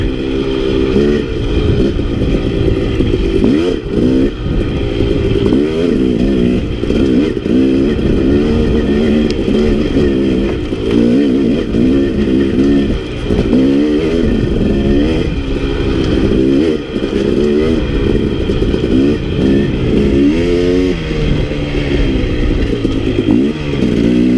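A KTM 250 dirt bike ridden through pine woods, its engine loud and close throughout, revving up and down constantly in a rough, buzzing drone with occasional clatter.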